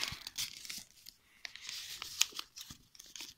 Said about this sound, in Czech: Takže ještě mám tady nějaký papírky.